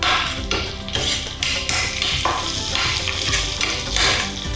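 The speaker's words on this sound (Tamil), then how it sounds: "2 கொத்து கருவேப்பிலை சேர்த்துக்கிறேன்." Two sprigs of curry leaves go into a hot pan for masala pongal and fry with a loud crackling sizzle, while a utensil scrapes and clanks against the pan in uneven strokes throughout.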